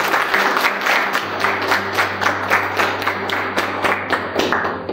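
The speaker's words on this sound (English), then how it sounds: "A big round of applause." A crowd applauds steadily, dense clapping filling the whole stretch at a loud, even level, with a low hum underneath.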